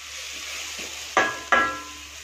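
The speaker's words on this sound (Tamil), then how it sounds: "நல்லா மிக்ஸ் பண்ணுங்கள்" A spoon clanks twice against a pan while onion, tomato, chilli powder and coriander powder masala is stirred. The two sharp, ringing metallic knocks come in quick succession over a faint, low sizzle.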